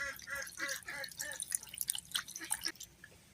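Water drips and splashes off potatoes being rinsed by hand, a faint, close patter of small watery plops and trickles with a few brighter drips toward the end, no talking.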